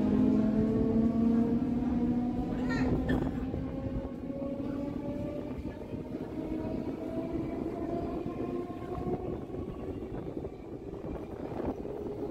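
A Howrah-Bandel local train runs along the track with a steady loud rumble, its rising tonal whine and rattling carriages filling the ride continuously without pause.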